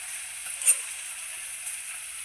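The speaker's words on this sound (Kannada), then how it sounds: "ಫಸ್ಟು 1 ಸ್ಪೂನು ಸಾಸಿವೆ ಹಾಕೊಳ್ಳೋಣ." A spoonful of mustard seeds sizzles in a hot pan, a faint steady hiss with one small pop partway through and another softer crackle near the end.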